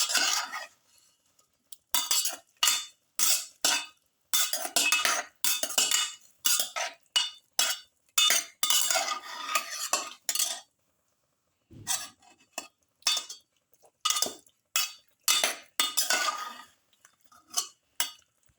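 A spoon scrapes and clinks through garlic lamb chayote pilaf in a pot, a quick run of close, rhythmic stirring strokes with a short pause midway, then more strokes.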